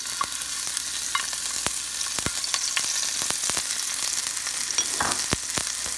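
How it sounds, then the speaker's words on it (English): Chopped chili sizzles steadily in hot oil for an egg-tomato curry, a continuous close frying hiss broken by sharper crackles and pops throughout. "Let me add a little bit more oil. That was not enough. So now what I'm going to do is I'm going to put the chopped chili."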